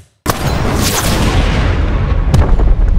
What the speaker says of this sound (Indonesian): tembakan yang dilepaskan oleh The Twin mengenai tepat kepala Franky